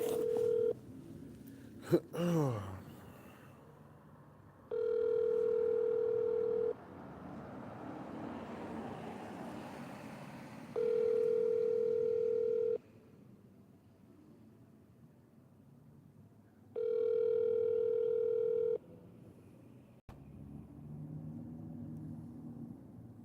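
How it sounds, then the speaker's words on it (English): An outgoing phone call ringing back: three long, steady electronic ring tones spaced several seconds apart over a low rumbling background, after a brief clatter at the start, with no talking. "Calling the vitamin lady real quick"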